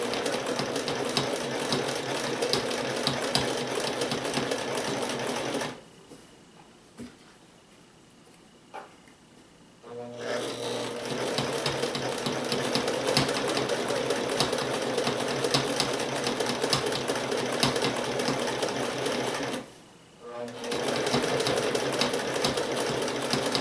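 A sewing machine stitches fabric for double-sided curtains, running in a long steady whirring burst, stopping briefly, then running again with another short pause near the end.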